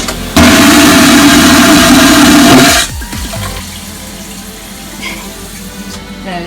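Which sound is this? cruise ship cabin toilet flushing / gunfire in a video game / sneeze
cruise ship cabin toilet flushing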